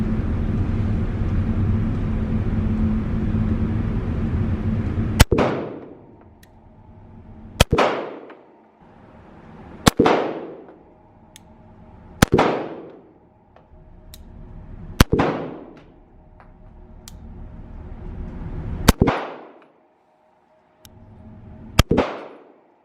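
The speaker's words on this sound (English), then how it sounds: "Okay guys, I'm gonna do my first course of fire with the XL." A SIG XL pistol fires seven sharp, loud gunshots at the range, spaced a few seconds apart with a brief pause before the last pair, each crack ringing out and decaying over a steady background noise.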